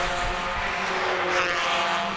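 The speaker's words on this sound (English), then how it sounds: "Certainly sounds like the revs are picked up, and yes, we are racing" Volkswagen race car engines roar continuously in a dense, loud wall of sound, revs climbing as the cars accelerate away.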